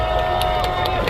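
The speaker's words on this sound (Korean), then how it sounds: "우리 농지들의 함성과 박수로" A crowd at the 2023 national workers' rally in a Seoul square cheers and claps, a dense, loud roar with scattered claps rising briefly over it.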